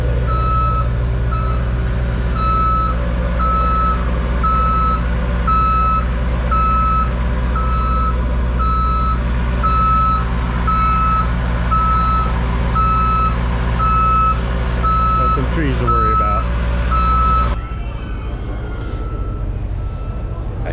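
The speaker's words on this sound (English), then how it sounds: "Construction trucks behind me" Repeated high reversing beeps from construction trucks working on a theme-park habitat at Busch Gardens, steady and fairly near over rumbling diesel engines, continuing for most of the clip before cutting off, with brief voices underneath.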